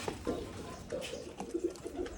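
Pigeons coo in a series of soft, low, rounded calls at a feeding spot where grain is scattered, several murmuring phrases spaced through the moment with no one talking.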